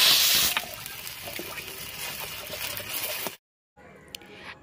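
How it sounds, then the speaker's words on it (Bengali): Water poured into a wok of fried mung dal, a close rushing splash that settles into a steady flow, then cuts off into near silence before a faint clink. "ডালটা ভালো করে ভাজা হয়ে গেলে এতে দিয়ে দেব পরিমাণ মতো জল।"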